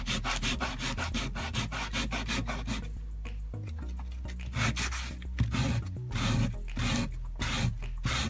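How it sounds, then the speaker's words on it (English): Sanding a small wooden block for a model diesel tank makes quick, rhythmic back-and-forth rubbing strokes, close and fairly quiet, with a brief pause before the scraping strokes resume. "So sand this down so it takes the pen really well."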